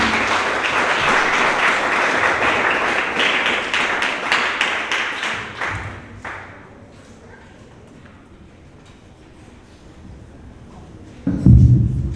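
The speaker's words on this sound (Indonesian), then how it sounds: "Beri tepuk tangan untuk dia." Audience applause for a student speaker at a vocational school Christmas celebration and service, loud, dense clapping for about six seconds that tapers off into quiet room noise, then a sudden thump.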